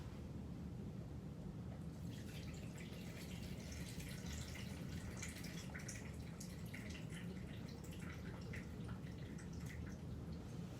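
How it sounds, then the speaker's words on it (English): Cloudy rice-washing water is poured off from a bowl in a faint, steady trickling wash that runs on after a quiet start. "you're going to pour that dirty water off"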